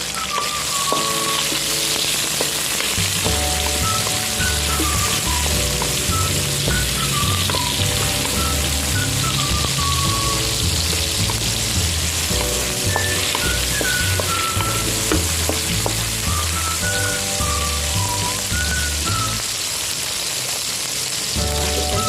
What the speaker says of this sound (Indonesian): Gorengnya dengan api sedang.